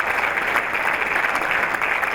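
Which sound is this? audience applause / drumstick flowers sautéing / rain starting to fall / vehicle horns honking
audience applause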